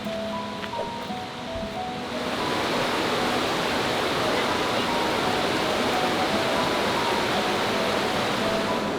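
Steady rushing river water flowing beneath a famous bridge on a New Hampshire day hike to Mt Flume in the White Mountains, a broad continuous roar close by, growing louder after the first couple of seconds.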